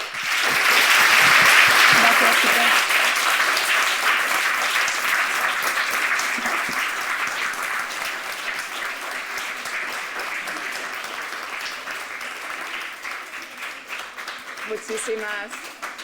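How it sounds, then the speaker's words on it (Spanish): Loud, sustained applause from an audience after a science talk, slowly tapering off; a voice speaks briefly near the end. "vamos a dar un fuerte aplauso"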